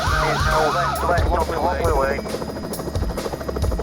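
A police helicopter's rapid rotor thump pulses steadily overhead, with a wailing siren sweeping up and down early on and voices murmuring underneath.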